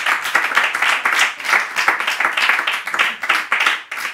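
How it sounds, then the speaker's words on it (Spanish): A studio audience claps in a dense, continuous, rhythmic burst that stays loud throughout. "sí, pon a aplaudir, claro."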